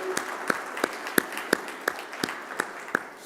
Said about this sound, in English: I would please want to give them a warm round of applause